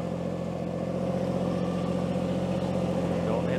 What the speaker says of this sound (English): a little tractor struggles a little bit more.